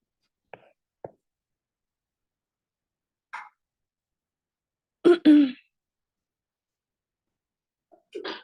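A few faint breathy sounds lead to a sudden sneeze burst midway, followed by a short quiet voice near the end.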